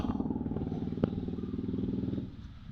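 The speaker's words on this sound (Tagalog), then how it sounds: "Wait lang, tatabi ko dito yung motor." A motorcycle engine idles with a steady rhythmic putter as it is moved and parked, with a single clank near the middle before the engine note drops away at the end.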